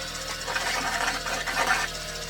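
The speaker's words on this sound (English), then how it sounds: "Now I'm going to take some sandpaper to that." Sandpaper rasps steadily against a custom VW hubcap fuzz pedal enclosure, a close, continuous scratchy rubbing with a few louder strokes over a faint electrical hum.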